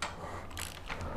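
Ratchet spanner clicking while undoing a frame slider bolt on a 2015 Triumph Street Triple 675 R motorcycle, a close series of short ratcheting bursts over faint background hum.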